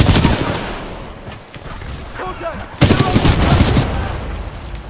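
Bursts of rapid gunfire from the shooter game Titanfall 2, loud and close, with a dense volley at the start, a quieter stretch, then another heavy burst.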